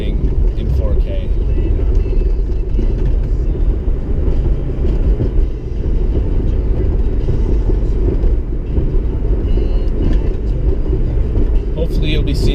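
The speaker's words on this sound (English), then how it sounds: "This is the first time I've driven on it with the Mustang, and the Mustang's actually driving pretty smooth on it" A Ford Mustang cruises along a road, its steady engine and tire roar forming a loud, continuous drone with rumbling wind noise and no clear breaks.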